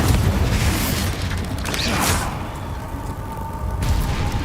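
Spell blasts from Hogwarts Legacy, Confringo and Bombarda, thud and boom in quick succession, with a whooshing burst near the middle and a rumbling, close, loud impact bed.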